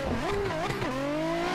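A Nissan 400Z in a racing game drifts in fifth gear. Its engine holds a steady, loud drone whose pitch dips and swells through the brief initiation, with no clear tire squeal.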